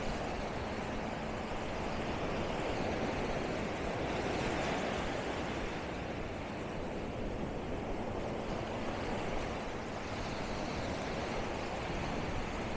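Choppy ocean waves wash steadily onto Bavaro Beach in Punta Cana, Dominican Republic, a continuous broadband roar of surf with a faint breeze, constant and fairly near, with no voices.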